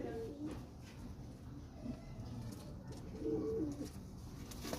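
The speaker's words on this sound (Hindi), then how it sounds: "ये हमारे टैडी कबूतर है जी" A Teddy pigeon coos nearby in repeated low, soft warbling calls, several cooing phrases spread across the stretch with someone talking in the background.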